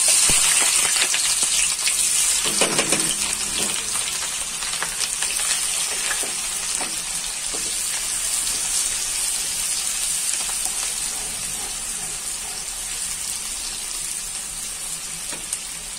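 Onions fry in hot mustard oil with a loud, close, continuous sizzling hiss that eases slightly toward the end, and no voices.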